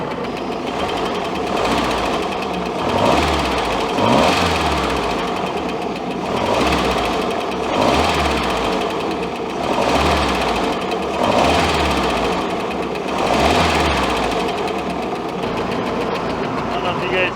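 A 1967 Mercruiser 120 hp inboard boat engine runs steadily up close with its timing set a little past 8 degrees, giving a loud continuous mechanical rumble with a regular pulsing beat throughout.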